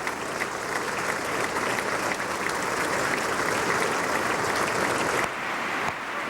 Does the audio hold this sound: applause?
yes